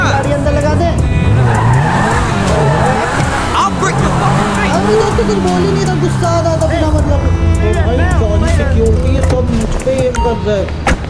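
Supercar tires squealing and skidding in GTA 5, loud continuous screeching with engine revving and sliding pitch sweeps, under someone talking over the action.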